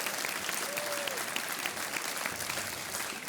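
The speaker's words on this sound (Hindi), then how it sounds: "तालियां बजती रहे देवी और सज्जनों।" Dense, sustained applause from the studio audience of the Hindi quiz show Kaun Banega Crorepati, an even wash of many hands clapping with no clear pauses.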